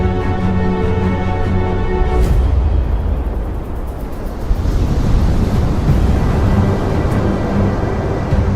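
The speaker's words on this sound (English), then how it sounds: "This is Portugal, home to some of the biggest waves in the world." Huge ocean waves in Portugal roar and crash, a broad, heavy rush of surf with wind buffeting the microphone and a tonal engine hum early on, loud and continuous.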